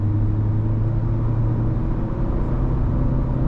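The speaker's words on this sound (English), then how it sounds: "Go ahead and give it a little bit of gas." A 2023 Audi A4 with quattro all-wheel drive accelerates gently while driving, a steady, smooth low engine and road rumble heard from inside the cabin with no talking.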